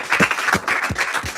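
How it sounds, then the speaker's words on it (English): Brief audience clapping at a fashion academy induction ceremony, a short burst of claps in an indoor hall, moderately loud and somewhat uneven. "Clap for me."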